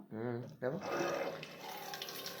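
Water pours into an empty plastic bottle, a close, steady gushing stream whose pitch rises as the bottle fills, with someone talking over the start.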